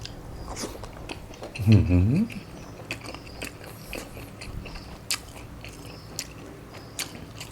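Crunchy Thai pork crackling is bitten with one loud, close crunch, followed by softer, scattered chewing crackles and small clicks, with a voice faint in the background.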